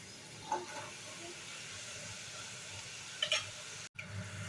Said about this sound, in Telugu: ఆయిల్లో ఎన్ని పడితే అన్నీ వేసుకొని చేసుకోండి. ఆయిల్లో వేసిన వెంటనే గరిట పెట్టి కలపవద్దు.